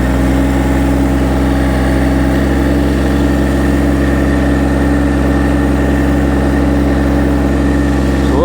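A Massey Ferguson GC1723e compact tractor's engine runs loud and close with a steady low throbbing drone; RPM increase is barely evident over the clip.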